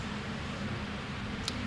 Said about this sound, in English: sorry about that noise. Our air conditioner is really loud